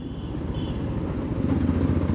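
A Yamaha FZX motorcycle rides along a road carrying a rear bag weighted to the left, its engine a close, throbbing low rumble that swells slightly toward the end.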